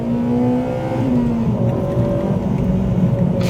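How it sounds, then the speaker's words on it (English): Honda Civic Type R FD2 with a K20A engine revving in second gear toward 6,500 RPM, a loud steady high-pitched four-cylinder wail with rising harmonics, heard from inside the car without talk. "I've missed that K20A sound from my DC5 for quite some time"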